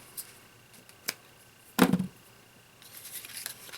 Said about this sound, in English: And then cut your ends off from your thread.